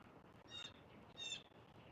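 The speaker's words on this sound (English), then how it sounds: "You hear the birds?" Outdoor birdsong near two lazing Alaskan Malamute dogs, two brief bursts of faint high chirps and calls over steady background noise.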